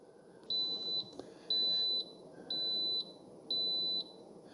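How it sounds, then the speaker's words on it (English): Four short, high-pitched electronic beeps from a Ninja CE251 coffee maker signalling brewing is done, evenly spaced about a second apart, ring out clearly over a faint background hum. "So it does beep at you four small beeps to let you know that it's done brewing."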